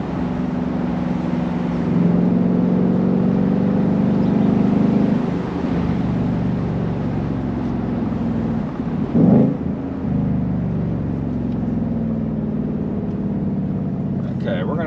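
A deep V8 engine in a 2021-22 Ford Mustang GT Convertible with manual transmission drones steadily with a brief surge of revving near the middle, loud and close, with faint voices underneath.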